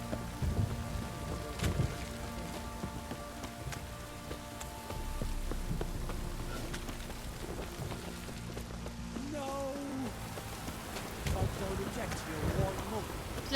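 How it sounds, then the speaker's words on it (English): Steady rain pours down during a downpour in The Witcher 3: Wild Hunt, a continuous hiss with occasional low rumbles, heard beneath intermittent speech. "This downpour's a bastard"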